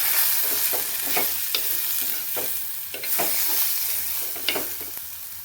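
Green chilies and tomato sizzle and fry in a pan while being stirred, a steady crackling hiss punctuated by regular scraping strokes of the spoon.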